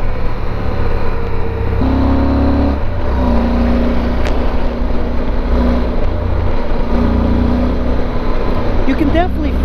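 Yamaha Super Tenere motorcycle engine running steadily under acceleration, a constant low rumble with wind noise throughout and a shift in tone midway.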